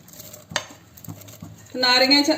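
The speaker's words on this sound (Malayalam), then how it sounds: "ഇതിലേക്ക് നമുക്ക് നാരങ്ങ അരിഞ്ഞു വെച്ചായിരുന്നു, അത് ചേർത്ത് കൊടുക്കുക." A few clinks of a utensil against a pot, then a louder simmering sizzle rises as chopped lemon is added to a bubbling lemon curry.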